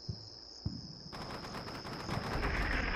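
Artillery fire in the video game Combat Mission Shock Force 2: a couple of faint thuds, then a sustained rumbling barrage of crackling blasts that grows denser and louder, over a steady high electronic whine.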